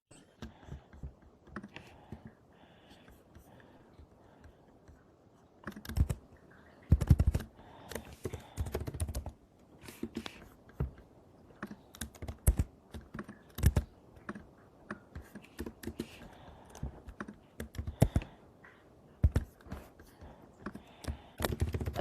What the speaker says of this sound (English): I love how we hear your fervent typing, Alicia, or I'm assuming it's you.